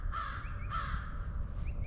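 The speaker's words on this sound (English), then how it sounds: "That bird is absolutely doing something." A crow caws outdoors, giving two clear, harsh calls in quick succession followed by a fainter third, at moderate distance over low background rumble.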